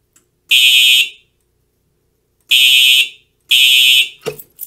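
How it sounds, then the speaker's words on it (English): An STI Stopper Station SS2000 series fire alarm cover sounds after its button is pushed, giving three loud, shrill electronic bursts, each close and piercing, separated by short silences, with a brief clatter at the end. "So we will actually go ahead and push it and you'll hear the alarms play"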